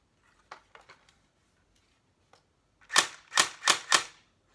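A Saigo Defence AK-47 airsoft rifle fires in full auto: four sharp, loud, snapping shots in quick succession after a few faint clicks and handling sounds.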